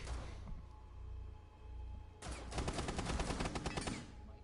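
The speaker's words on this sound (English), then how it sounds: "I just shot Ethan, I think." Rapid automatic gunfire in a video game bursts in after a quieter stretch, a dense, loud rattle of shots lasting a couple of seconds.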